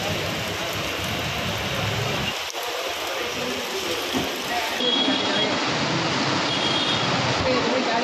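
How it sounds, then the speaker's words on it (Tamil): Steady moderate rain in Mayiladuthurai, Tamil Nadu, during a deep depression over the Bay of Bengal, a dense continuous hiss of falling water with a brief sharp crack; no distinct thunder stands out. "மாவட்ட தலைநகரான மயிலாடுதுறையில் இடி மின்னலுடன் கூடிய மிதமான மழை பெய்தது"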